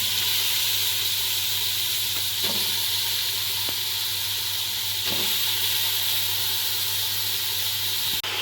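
Grated carrots frying in melted butter over high heat for carrot halwa, giving a loud, continuous sizzle and hiss with faint stirring clinks.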